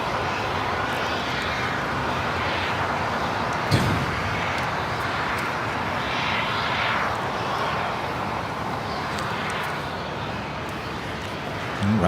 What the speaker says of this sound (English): The next takeoff, the Dreamliner already lined up.